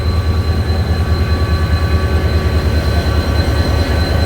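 The Rehman Baba Express pulls into Tando Adam railway station in dim light, a loud steady rumble of rolling wagons and pulsing wheel beats with a faint high whine, close and continuous.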